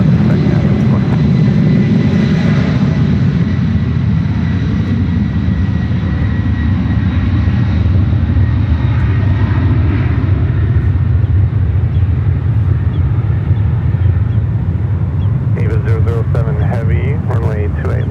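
A large Emirates Airbus A380 airliner taxiing at San Francisco airport, a steady loud jet engine rumble and whine throughout, with a brief burst of radio or tower chatter near the end.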